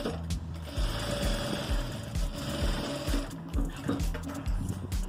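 A sewing machine backstitches and reinforces the seam of a patchwork crazy-quilt pencil case, running close in short, rhythmic bursts with brief pauses between them.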